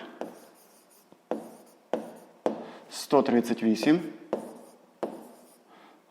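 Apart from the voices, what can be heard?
writing in a notebook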